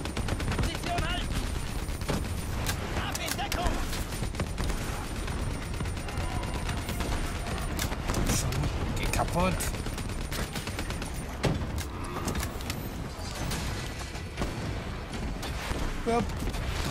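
Dense, continuous gunfire and explosions fill a Call of Duty Black Ops 3 battle, with rapid bursts and booms sounding loud and close throughout, alongside game voices and speech mixed in.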